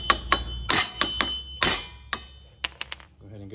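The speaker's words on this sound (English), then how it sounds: "We're going to need a hammer to get this one out." A hammer strikes a car part in a series of sharp, ringing metal clanks at uneven intervals, close up, ending with a quick cluster of lighter taps.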